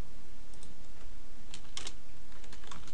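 Quick keystrokes on a computer keyboard while a number is entered, a few close clicks over a steady room hum, with no voices.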